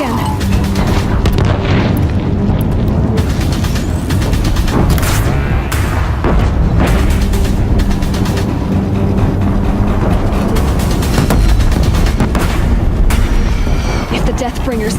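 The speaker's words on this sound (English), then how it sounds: "If the Deathbringers keep firing, this bridge will go." Deathbringer war machines in Horizon Zero Dawn fire explosive shots in repeated booming blasts, loud and close, rumbling heavily around a bridge amid continuous game noise.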